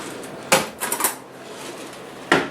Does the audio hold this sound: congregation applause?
no